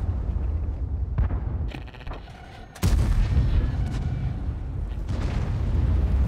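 A tank cannon fires in a tank video game with a loud, sharp boom, followed by further heavy blasts and rumbling impacts over a low engine drone.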